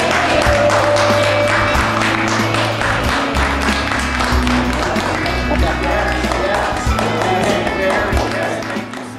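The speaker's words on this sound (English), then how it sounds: "will you please give them a round of applause and say thank you?" An audience at a charity event for kids applauds to thank donors, a dense, steady wash of clapping that runs the whole stretch over a low droning background and faint voices.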